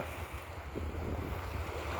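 Sea waves at Parappanangadi harbour on the Kerala coast, heard as a steady low surf roar mixed with wind rumble, continuous and fairly loud with no clear individual wave breaks.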